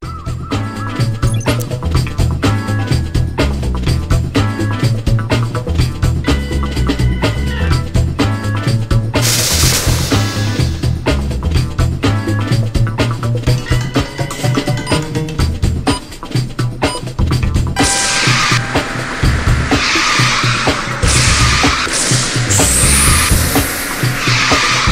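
Racing cars in the QQ Speed video game, with loud continuous engine roar, repeated tire squeals and skidding, and a bright burst of effects partway through, all dense and close with no talk.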